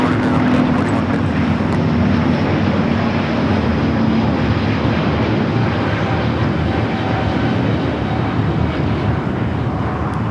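An airplane at Los Angeles LAX airport roars loud and steady throughout, a continuous broadband engine rumble with no break.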